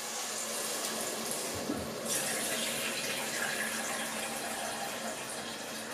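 A steady rush of water and diced potatoes pouring into a pot, continuous and close, with a brief clunk partway through.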